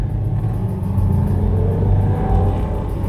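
A car engine rumbles loudly and steadily, revving slightly, with no voices over it.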